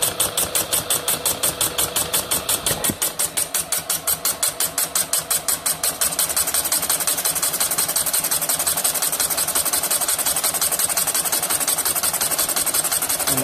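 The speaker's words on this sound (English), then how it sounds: "So we fire up the boring bar, we put it in gear, we're going to bore in low, and then we start boring." A boring bar in low gear cuts a hard LA sleeve in a Yamaha 701 62t big bore cylinder, giving a steady, loud mechanical whir with rapid regular ticking that shifts to a denser, brighter grinding partway through.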